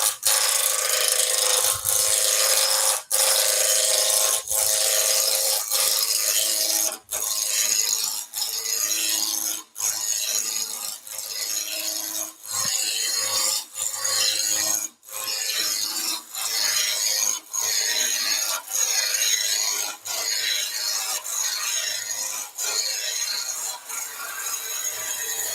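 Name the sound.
roughing gouge turning a wooden bowl blank on a lathe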